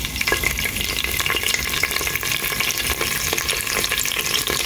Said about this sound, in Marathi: तेल न्ही बरें गरम जाला, तर हितून सगळ्यान पयलीं घालता आमचे ब्लॅक पेपर घायले तशें घालता करी लिव्स.